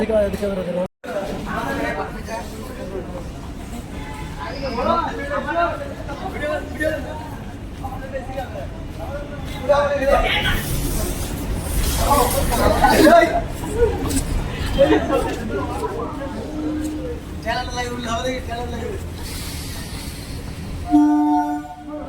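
Busy Chennai railway station murmur of many voices and chatter while waiting for a train, with rumbling train noise and clatter building and fading throughout.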